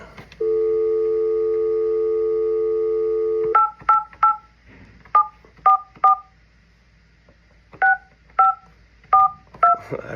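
A telephone gives a steady dial tone, then a number is dialed. Short touch-tone beeps follow in quick clusters with brief pauses between groups, clear and close.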